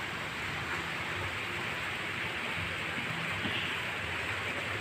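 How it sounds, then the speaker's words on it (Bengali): Heavy rain pours down in a steady, dense hiss with no breaks, even and continuous throughout with no voices. "এই বৃষ্টির শব্দ কি জোরে জোরে হচ্ছে, ভালোই বেশ জোরে বৃষ্টি পড়ছে।"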